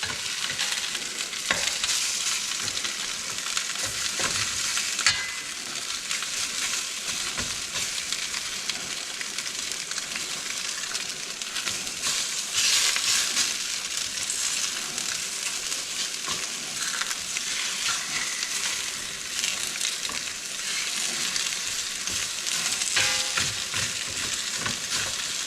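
Oxtail for Cuban rabo encendido sears in a pan with a dense, unbroken sizzle that runs loud and even for a long stretch, sprinkled with small crackles and pops.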